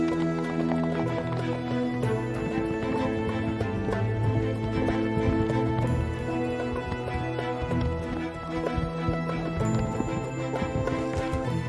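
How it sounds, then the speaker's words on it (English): A horse's hooves clip-clop in an uneven walking rhythm, moderately close, mixed under a steady layer of music. "meet Bianca's horse, Harley Quinn"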